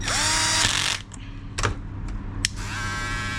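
Powered screwdriver whirring up close as it drives screws into a Wahl hair clipper, a sustained loud run that stops abruptly, followed by a few short clicks and another quieter whir.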